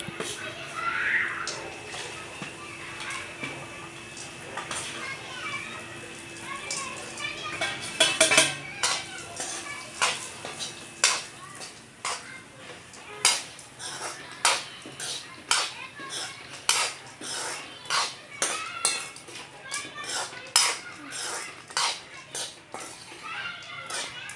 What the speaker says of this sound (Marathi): आता मी हे ड्रायफ्रूट तळून घेते